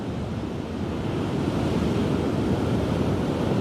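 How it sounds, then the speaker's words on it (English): Ocean waves break steadily at St Mike's Beach on a calm morning with only a slight breeze, a continuous loud roar of surf with no voices. "Perfect conditions to catch a nice wave."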